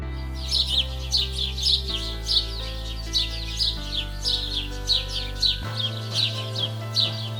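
Bright bird chirps come in short repeated bursts over a steady, sustained musical tone, fairly loud and close.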